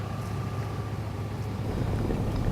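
A car creeps very slowly along a winding canyon road, a steady low engine rumble mixed with wind buffeting the microphone, continuous and close throughout.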